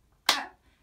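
A single sharp hand clap rings out in a children's music class, one crisp, fairly close percussive hit with a short decay, standing alone in an otherwise quiet moment.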